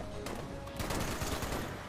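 Rapid gunfire in the video game Fallout 76, a dense, loud burst of overlapping shots that runs continuously through the moment.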